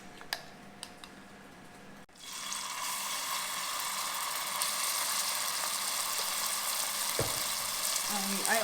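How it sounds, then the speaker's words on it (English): Ginger garlic paste dropped into hot olive oil in a pan sets off a sudden loud, steady sizzle that carries on after a quieter start with a few faint clicks. "put about 2 tablespoons of olive oil in our pan here. And we're going to be using a ginger garlic paste"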